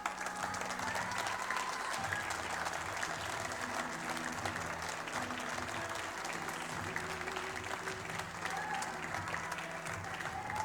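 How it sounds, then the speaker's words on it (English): Sustained applause from the audience at a snooker championship, the World Seniors event, greeting the referee's introduction, a dense steady clapping crowd that holds at even volume throughout. "Give him a big round of applause from Scotland, Leo Scullion."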